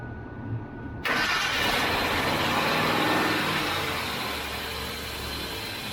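A car engine cranks and catches after about a second, bursting into a loud, rough, rumbling run that holds steady and then settles slightly toward idle, close by.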